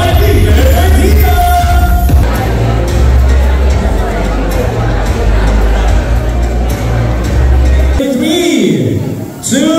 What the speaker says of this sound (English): Ladies and gentlemen, round of applause for the Executive Vice President for Finance and Admin of Royal Homes Marketing Corporation